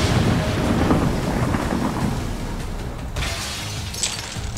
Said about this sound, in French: Frappe éclair.